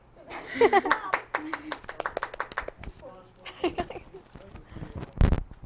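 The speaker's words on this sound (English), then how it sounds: "Can we clap for them?" An audience claps in a scattered, uneven burst with sharp individual hand strikes, heard close under voices talking over it.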